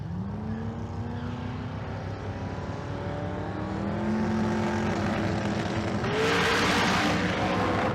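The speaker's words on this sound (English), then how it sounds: "The car starts to make a move towards the middle of the racetrack, headed right." Race car engine on a racetrack, a loud sustained roar with rising and shifting pitch as it accelerates, growing harsher and louder toward the end as the car nears or passes.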